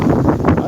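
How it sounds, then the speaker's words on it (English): Wind buffets a microphone outdoors with a loud, continuous, rumbling roar throughout. "it's a little windy out here."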